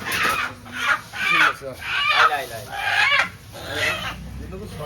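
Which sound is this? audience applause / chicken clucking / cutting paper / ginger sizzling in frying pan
chicken clucking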